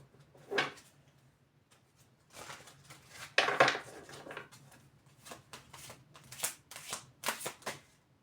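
Tarot cards being shuffled and riffled by hand in irregular bursts of soft papery flicks and rustles, quiet and close, with brief pauses between handfuls.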